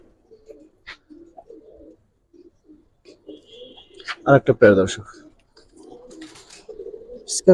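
Giribaz pigeons in a loft coo in soft, repeated bursts, with a louder cluster partway through, while someone talks over them.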